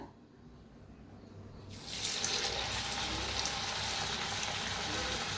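Chakli dough drops into hot oil and sets off a sudden, loud, continuous sizzling hiss that holds steady after a quiet start.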